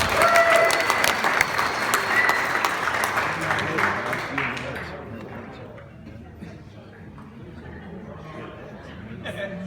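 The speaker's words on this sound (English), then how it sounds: "So one round of applause for all of our marshals for whatever you do for the club" Audience applause for the marshals at a championship club toast, steady clapping for about five seconds that fades into low chatter and murmuring voices.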